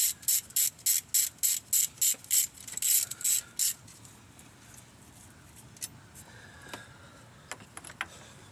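A ratchet working bolts on the alternator of a 2007 Ford F-150: a run of about twelve rapid, loud, close clicking strokes, then quieter scattered metallic clicks and handling noises.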